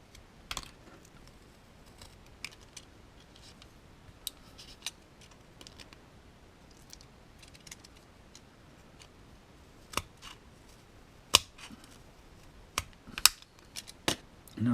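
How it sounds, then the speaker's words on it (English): Scissors trim the edge of a plastic part on a Redcat Blackout RC car, giving sparse, sharp snips and small clicks, mostly faint and spaced apart with a few louder cuts near the end, over a quiet background. "we're just going to trim some off the edge here"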